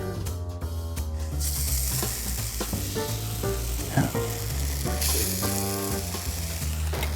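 A spoonful of batter frying in olive oil in a hot pan over medium-high heat, giving a steady, close sizzle throughout with a tonal musical layer running underneath.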